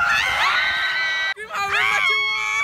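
A group of graduating students screams together in two loud, sustained bursts of high-pitched shrieks, broken by a short pause, with voices overlapping.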